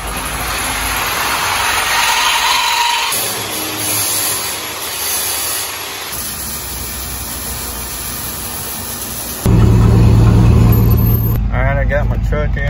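A deep pickup truck engine with catalytic converters removed rumbles steadily, then swells louder as it revs, with a voice talking over it.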